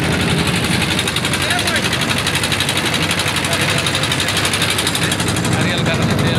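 A trawler boat's engine drones loud and steady throughout, carrying a car across flooded monsoon-season waters, with voices mixed into the continuous mechanical rumble.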